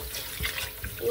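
Tap water running steadily over buckwheat being rinsed in a sink, a short continuous wash with no one speaking.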